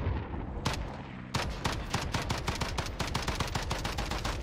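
Rapid bursts of video game gunfire crackle loud and close, a short pause followed by a long stretch of dense automatic shots in quick rhythm, with no talking over it.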